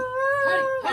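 Village dogs fighting, heard as one close, sustained tonal howl or whine lasting about a second, ending in a sharper yelping cry.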